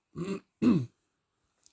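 Two close throat-clearing coughs from someone still unwell, one after the other, then a brief faint click near the end; no talk.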